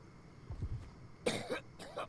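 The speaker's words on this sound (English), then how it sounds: "he's coughing up blood" A video game character in Octopath Traveler gives a few rough coughs, a low muffled one first, then two sharper hacking bursts close up, set against quiet background.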